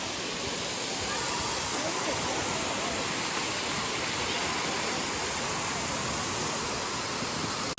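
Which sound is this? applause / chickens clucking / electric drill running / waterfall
waterfall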